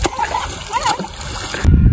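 A man bathing in a river in a village splashes the water, with a burst of close, loud splashing at the end after a stretch of watery background noise.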